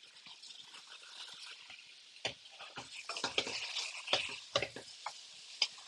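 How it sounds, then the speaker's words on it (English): Kale stirred into hot oil in a pot, quiet sizzling broken by scraping and clattering spoon strokes that grow busier and louder toward the end, close by with no talking. "All right, I'm adding the kale."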